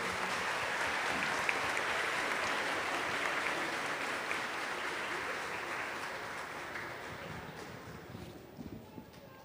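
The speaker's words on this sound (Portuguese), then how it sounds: "Vamos aplaudir e acolher." Church congregation at a Sunday Easter-season Mass applauding to welcome someone to the altar, a dense sustained wash of many hands clapping in a large reverberant space, slowly fading toward the end.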